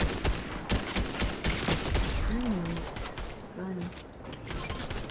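Gunfire in the video game Fortnite, with rapid repeated shots crackling continuously through the clip over game background noise.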